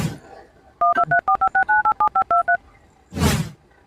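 Push-button telephone keypad tones sound about a dozen times in a quick, even sequence, loud and close, in a comic Gujarati skit about calling the boss over a broken machine; a burst of noise follows the dialing.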